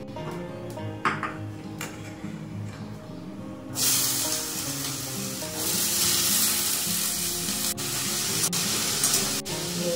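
Food sizzling and frying in hot oil in a kadai (wok) in a home kitchen, a loud steady crackle that swells when ingredients go in, with faint clinks of utensils.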